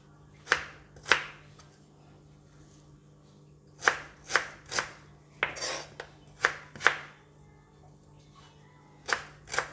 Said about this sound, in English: Just going to cut it into small pieces.